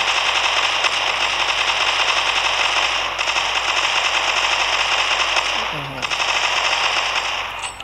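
Dense, continuous rapid automatic gunfire from the mobile first-person shooter Crossfire Legends, loud and unbroken apart from a brief gap, with a faint voice underneath.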